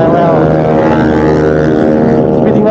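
A motorcycle engine hums steadily during a night ride through Jakarta, a loud, close, continuous droning tone with layered harmonics and no breaks, recorded from the rider's position.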